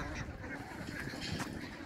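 Ducks penned behind an iron wire fence on a rural duck farm, a dense chorus of quacking and honking calls overlapping continuously, loud and close.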